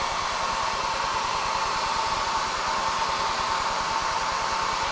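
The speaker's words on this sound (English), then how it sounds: "Hairdryer on high, nice and hot." A hair dryer runs on high heat, blowing at a continuous steady roar close to the microphone, a constant broadband whoosh with a faint motor hum that stays at the same level throughout, with no talking.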